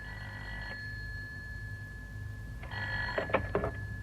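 A telephone rings in an audio play, with two bursts of the bell tone separated by a gap. The ringing is moderately quiet under a low steady background hum.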